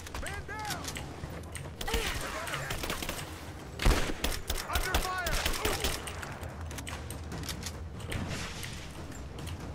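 Scattered gunfire aimed at the player in Rise of the Tomb Raider, several sharp cracks and a louder cluster mid-way amid creaking, metallic game ambience and a voice in the background.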